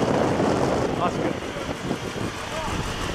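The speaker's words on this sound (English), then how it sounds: "A little windy." Gusty wind buffets an outdoor microphone at a classic car road event, a steady broadband rumble running throughout with faint voices underneath.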